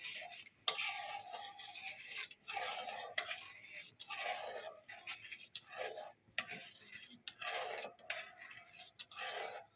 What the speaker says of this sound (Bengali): এভাবে আমি নেড়ে চেড়ে জলটাকে একটু আমি ফোটার জন্য ছেড়ে দেব